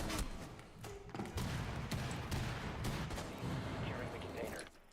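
Video game gunfire crackles in dense, continuous rapid bursts, with thuds and explosions mixed in. The fire carries on without a break for several seconds.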